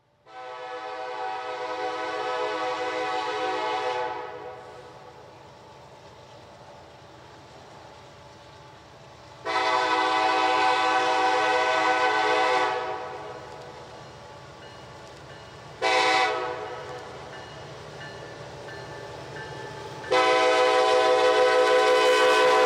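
CPKC coal train working up the grade at the Rich Mountain crossing, its horn sounding in four loud blasts, long, long, short, then long, over a steady low rumble of locomotives and rolling cars.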